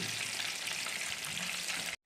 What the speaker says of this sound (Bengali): আমরা এটাকে একটুখানি ভেজে নামিয়ে নেব